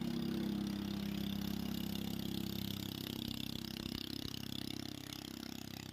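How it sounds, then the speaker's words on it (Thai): A boat engine chugs steadily on a canal at Amphawa, Samut Songkhram, at early morning, a continuous mid-pitched drone heard fairly close and slowly fading as it passes. "มีคนขับเรือผ่านด้วยค่ะ"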